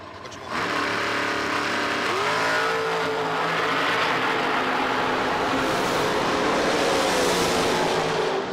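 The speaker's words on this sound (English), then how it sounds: "taking on right lane's Robert Bragland on a 532 in the fast door car." Fast door cars at a bracket drag racing event launch and scream down the track, engines roaring loud and sustained with rising pitch, close and without talk.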